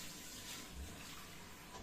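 Tap water runs steadily into a sink while eggs are washed in a home kitchen, a constant moderate splashing hiss with no pauses and no talking.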